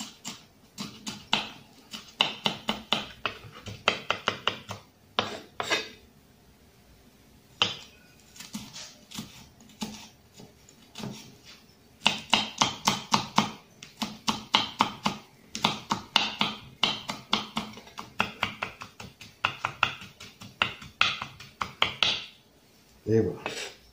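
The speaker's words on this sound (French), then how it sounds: "On va émincer ça un peu comme une échalote. Maintenant, on le coupe le plus petit possible." A knife minces chili pepper on a cutting board. Rapid bursts of sharp chopping taps come in several quick runs separated by short pauses, close by and with no talk.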